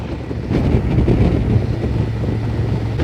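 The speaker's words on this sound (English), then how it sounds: "I'm gonna be riding a little bit slower because the wind blast is so strong" Strong wind blasts roar across a microphone while a motorcycle rides through countryside, a dense low rumble that swells after a moment and holds steady, loud and buffeting, with no speech.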